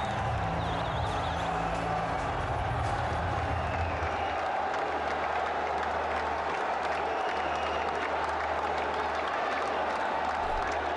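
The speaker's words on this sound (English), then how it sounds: "all going up to him and applauding an incredible innings" A cricket crowd at a Peshawar Zalmi versus Multan match applauds Rilee Rossouw's innings of 121 from 51 balls, with a steady, dense wash of clapping and crowd noise throughout and a low hum underneath.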